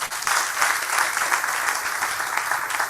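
Applause from the audience at the 2021 Bridge Education Summit and scholarship awards: a full, lively round of clapping that swells slightly and holds steady, close and fairly loud, with no voices over it.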